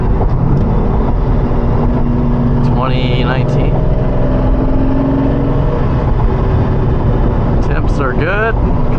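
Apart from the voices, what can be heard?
Lamborghini Diablo with LOC straight pipe exhaust revving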